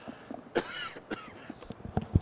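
A single person coughs and clears the throat a few times in short, close bursts, set against the background murmur of a busy CES trade show floor at the Venetian in Las Vegas.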